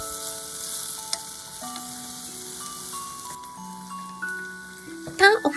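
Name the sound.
mixing fried spinach with salt and sesame seeds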